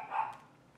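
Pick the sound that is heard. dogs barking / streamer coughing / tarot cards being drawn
dogs barking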